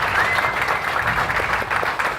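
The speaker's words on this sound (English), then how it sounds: "give a big round of applause for yourself" An audience applauds steadily at an inspirational ambassador talk, a dense, even wash of clapping with no pauses.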